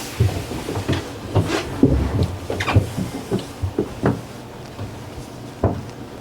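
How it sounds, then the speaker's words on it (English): A wooden cabin door on a 1961 Gulfstream 36 sailboat swings and thumps shut a few times, with creaks, latch clicks and knocks spread irregularly through the clip. "Door closes perfectly."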